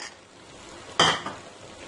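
Semolina halwa being stirred and fried after egg is poured in, a short burst of scraping and sizzle rising from quiet background noise, close and brief with no talk.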